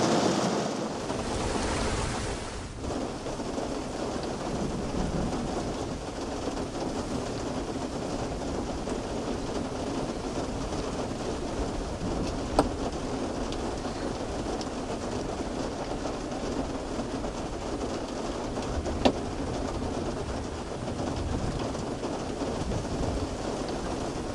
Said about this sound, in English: Right now, you can't tell because the rain's coming down so hard, but it's just a constant rumble of thunder.